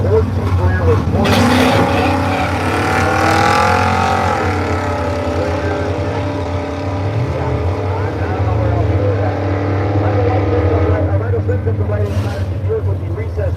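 Early supercar drag racing cars at Brainerd drag way, loud engine roar rising and sweeping past with layered rumbling tones, under an announcer's voice talking throughout.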